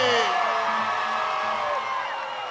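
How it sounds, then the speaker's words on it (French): A live audience at a Toyota contest event whoops and cheers for the winner of a car prize, a dense crowd roar with high yells that fades slightly toward the end. "Sous les applaudissements du public de Toyota en direct"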